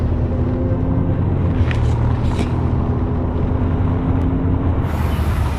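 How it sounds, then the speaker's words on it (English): A car driving steadily, with a constant low engine and road rumble that stays loud and even throughout, with no voices. "That's the sound of a car driving."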